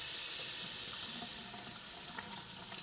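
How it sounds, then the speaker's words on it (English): A steady hiss of water pouring from a faucet with low water pressure, constant and close with a slight splashing texture, no voices. "when you turn the water on, you get full pressure for a few seconds"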